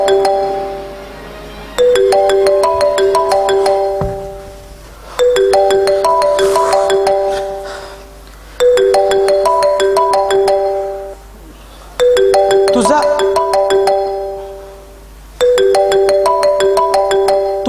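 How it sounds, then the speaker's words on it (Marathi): A phone ringtone plays a repeating melodic chime, loud and clear, cycling through several rounds with brief pauses between phrases. "तुमचा फोन वाजतोय."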